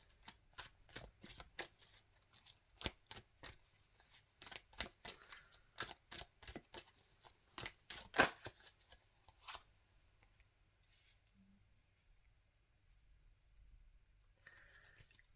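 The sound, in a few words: tarot cards being shuffled and drawn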